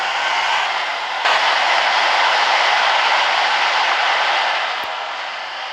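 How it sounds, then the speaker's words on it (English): A freight train in a train video game passes at about 105 miles an hour, a loud sustained rushing roar that swells and then eases slightly. "This train's traveling at about 105 miles an hour."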